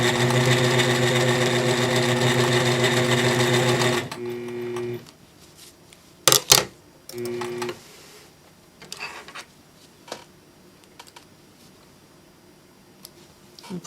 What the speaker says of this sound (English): Your home sewing machine will be just fine as long as you have a ruler foot